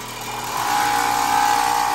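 A belt grinder with a well-worn belt buffs a Bowie knife/meat cleaver, a steady high whine that rises and holds as the blade presses in, close and loud with no voices.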